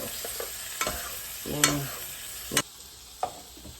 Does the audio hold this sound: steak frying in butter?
yes